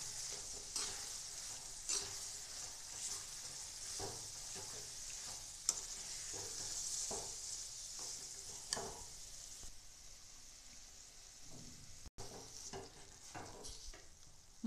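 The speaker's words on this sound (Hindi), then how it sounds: "अब हम इसमें अपना पनीर भी मिक्स कर देंगे।" Paneer is stirred into a matar paneer gravy in a pan, with a faint, even sizzle underneath and intermittent soft spatula scrapes and taps at an unhurried pace.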